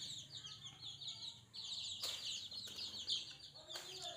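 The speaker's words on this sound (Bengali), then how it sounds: "এগুলো সব দেশি মুরগি, ছোট ছোট" Small desi hens and little chicks in a home yard, giving soft, high chirps and clucks in short repeated bursts, fairly faint and close, with a few brief sharper sounds partway through.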